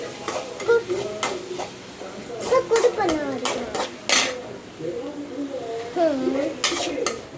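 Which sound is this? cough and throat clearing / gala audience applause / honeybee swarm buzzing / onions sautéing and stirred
onions sautéing and stirred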